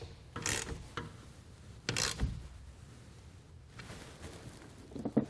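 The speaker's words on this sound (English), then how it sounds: "We can then take a 13mm wrench and socket and go back and tighten down the bolts that go through our tensioner." A 13mm wrench and socket ratcheting down the tonneau cover tensioner bolts on a 1989 Chevrolet pickup, with several short bursts of close, crisp clicking separated by quiet pauses.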